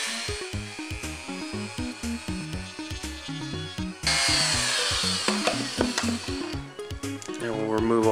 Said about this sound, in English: if you take the Dremel and grind into it like I'm about to do